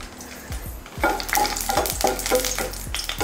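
Dried red chillies fry in a pan for chutney, crackling and sizzling close by while a spoon scrapes and stirs in uneven strokes, growing busier partway through.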